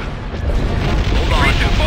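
In a Star Wars starship combat video game, weapons fire and explosions roll continuously as a loud, dense rumble of blasts and booms, with voices talking over the battle.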